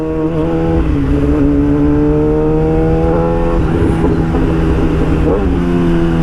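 A loud Yamaha R6 motorcycle exhaust with its silencer removed rumbles steadily, its engine note rising and falling with a few revs, close by throughout.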